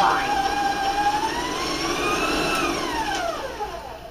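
An electric mixer whirs as it beats granulated sugar into cookie dough for a deep-dish chocolate chip skillet cookie, a steady motor whine rising and falling in pitch as the load changes, fading slightly near the end.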